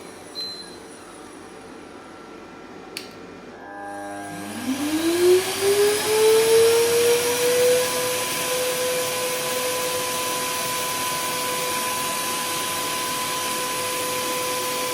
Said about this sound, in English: And let's put a vacuum cleaner at the same time.